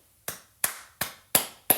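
One person claps five times at a slow, even pace, each crisp, close clap standing alone against near silence.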